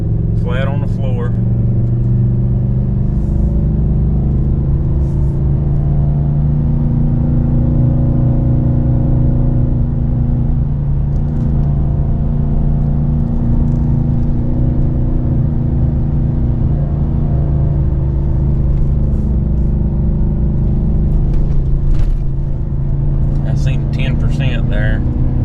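A Ford 7.3 gas Tremor pickup tows a heavy load uphill in first gear at full throttle, its engine a deep steady drone under someone talking.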